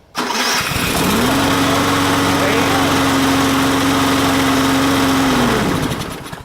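A lawn mower engine fitted with electric start catches and runs loud and close for several seconds, holding a steady drone before winding down at the end.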